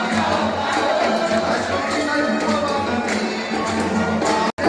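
A dense festival crowd at the Santa Bárbara celebration, a constant roar of many voices with occasional shouts, close and loud throughout, briefly cut at the very end.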